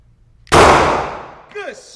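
A single loud handgun shot cracks sharply at an outdoor firing range and its blast decays over about a second, followed by a voice speaking.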